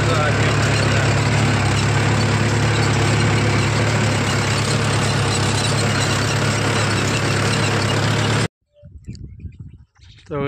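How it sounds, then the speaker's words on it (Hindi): A Mahindra tractor engine idles with no load at about 1200-1300 RPM, a loud, steady low rumble that runs alone for over eight seconds and then cuts off, followed by brief talk. "ये देखिए उसी तरह से चल रहा है जिस तरह से शुरू में चला था, कोई लोड नहीं है ट्रैक्टर को"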